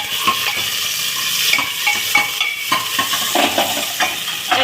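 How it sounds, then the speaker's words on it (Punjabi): Chopped onions fry in a pan with a steady sizzle while a spoon scrapes and stirs them in repeated strokes, close and clear, with no talking. "ਤੇ ਹੁਣ ਪਾਵਾਂਗੇ ਜੀ ਇਹਦੇ ਵਿੱਚ ਪਿਆਜ਼ ਠੀਕ ਹੈ ਇਹਨੂੰ ਹਲਾਵਾਂਗੇ"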